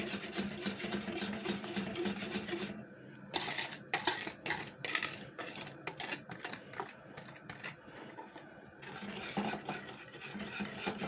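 Custard being stirred in a pot as the milk comes to a boil, with rapid scraping, clinking utensil strokes against metal in bursts over a steady background hiss.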